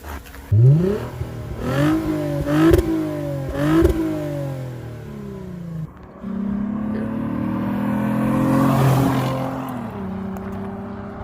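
A Lexus IS250 fitted with an Invidia Q300 exhaust revs loudly and close by, with several sharp throttle blips in the first few seconds followed by a longer sustained rev that rises and then settles back to idle.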